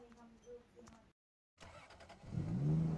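In the Free Fire video game, a car engine starts up and revs louder as the vehicle drives off after a brief gap of silence, while a voice talks over the game sounds.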